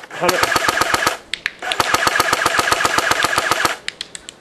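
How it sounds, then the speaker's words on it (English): A T3 .30 cal airsoft gun fires rapid full-auto bursts at a distant target outdoors, two loud, sharp strings of evenly spaced shots separated by a short pause, followed by a few scattered single pops. "I'm shooting right now out at another target and I'm hitting 165 feet"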